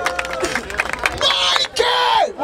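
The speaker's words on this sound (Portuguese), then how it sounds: "Barulho para as rimas do Christian." A loud crowd roars and cheers at a freestyle rap battle in Barueri, São Paulo, with whoops and shouts rising above the din.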